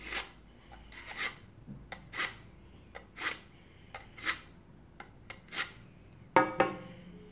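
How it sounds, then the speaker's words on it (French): A knife blade is drawn repeatedly across a ceramic sharpener, about a dozen rhythmic rasping strokes at regular intervals, close and clear, ending with a couple of louder metallic scrapes. "Si ça aiguise quand même, hein, ça aiguise correctement."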